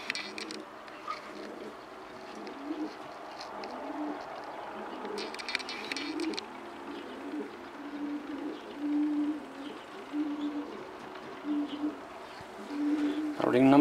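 Marathon strain racing pigeons coo steadily in a loft, a low repeated murmur running throughout beneath someone talking nearby.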